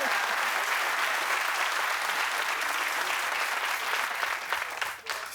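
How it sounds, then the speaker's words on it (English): Studio audience at a daytime talk show gives strong, continuous applause that stays full for several seconds, then thins out and dips as it winds down at the close. "She deserves the applause."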